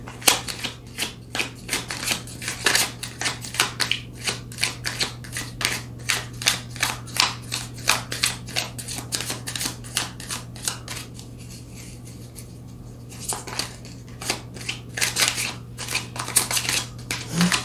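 Tarot cards are shuffled in quick, crisp riffles and cuts, repeated in a steady rhythm close by over a low background hum, with a short pause midway.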